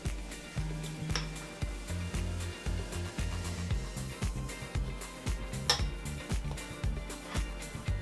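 A utensil stirs mayonnaise and Dijon mustard together in a bowl for a burger sauce, giving a steady run of soft rhythmic clicks and scrapes, close and fairly quiet, with no talking.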